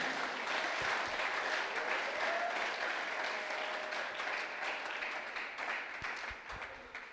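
A church congregation bursts into sustained applause to acclaim the Lord, a dense wash of many hands clapping that fills the room and slowly tapers toward the end.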